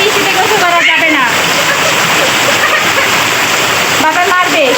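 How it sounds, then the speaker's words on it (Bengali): Heavy rain falls steadily in a dense, close wash of splashing water, with voices speaking briefly over it near the start and again near the end. "কি শব্দ, বৃষ্টির পানি"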